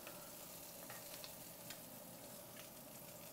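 Scallops sear in an oiled frying pan, giving a steady, even sizzle with faint crackles and pops throughout, close and continuous with no talking.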